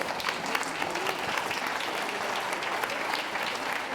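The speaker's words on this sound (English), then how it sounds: "So a big round of applause for our judge," Steady round of audience applause for the judge at the PROPLAN/Dog World Pup of the Year 2011 dog show, a dense indoor crowd clapping continuously at moderate level throughout.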